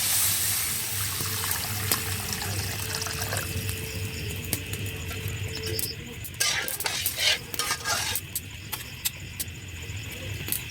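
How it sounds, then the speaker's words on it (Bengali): Water is poured into a pan of carp cooking in mustard paste, a low steady splash and trickle that grows into a busier burst of pouring and clinking near the end, close and moderately quiet. "এখন মাছ রান্না করার জন্য পানি দিয়ে দিলাম"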